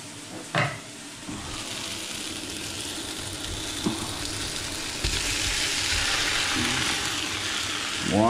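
Wild boar meat hits hot oil in a pot for a daube, then fries with a steady, broad sizzle that holds evenly and swells slightly, broken by a few faint clinks and stirring scrapes.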